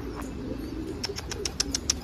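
Pigeons coo softly and bright chirps ring out in a quick series from a flock, set over a steady low outdoor rumble and with no talking.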